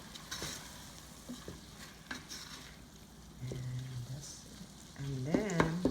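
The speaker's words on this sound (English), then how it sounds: "And then we're going to saute the meat." Meat sautés in a pan with a low sizzle and occasional stirring knocks, while faint tonal sounds rise briefly in the background.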